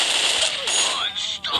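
Quick bursts of rapid gunfire in the game Crisis Action, close and sharp, mixed with faint game effects and a voice in the background.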